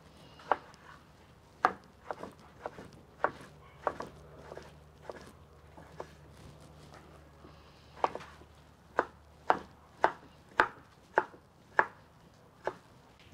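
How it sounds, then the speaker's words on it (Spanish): Knife chopping tomatoes on a cutting board for salsa in a ranch kitchen, sharp irregular chops in quick clusters, close and fairly quiet, no talking. "Primero voy a picar los jitomates, con estos vamos a hacer una salsa bien buena."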